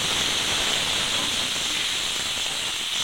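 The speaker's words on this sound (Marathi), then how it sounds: "कांदा व्यवस्थित भाजल्यानंतर टोमॅटो टाकायचा" Tomatoes dropped onto onions already frying with garlic-chili paste in a pan, giving a loud, steady sizzling hiss that runs unbroken until it cuts off at the end.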